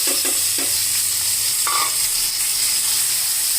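Soaked moong dal, cashews and peas fry in hot oil for an oats khichdi, giving a steady sizzle with a few stirring scrapes and clinks near the start, close and moderately loud, with no talking.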